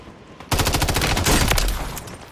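Video game gunfire in a fast, sustained automatic burst lasting about two seconds, loud and close, with no talk over it.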